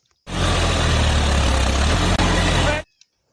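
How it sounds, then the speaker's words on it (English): A John Deere toy tractor plays a loud, steady engine rumble that starts abruptly, holds for about two and a half seconds with one tiny break, then cuts off sharply. "Wow, this is a John Deere tractor."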